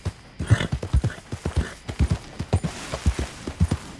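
Steady clip-clop of horse hooves trotting at an even rhythm in the video game Red Dead Redemption 2, close and clear, with no talk over it.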